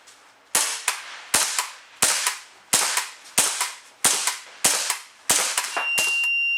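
A Marushin M2 gas blowback airsoft carbine loaded with 8mm rounds fires about ten sharp, loud, close cracks in a fast, even rhythm, each followed by a short hiss of gas, then a lingering hiss after the last shot.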